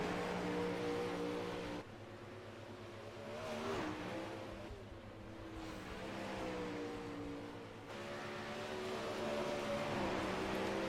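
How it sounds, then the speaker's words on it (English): 360 sprint cars lapping a dirt track, their high engine whine rising and falling as they sweep past and away, heard at a distance in waves of drone. "As you're watching these cars come around the racetrack for the first time."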